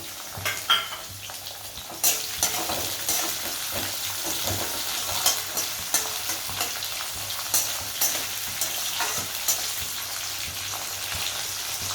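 Onions frying in a pan on the stove while being stirred for pesarattu upma, with a steady sizzle under repeated scraping and clattering strokes of a spoon against the pan, close and fairly loud, no talking.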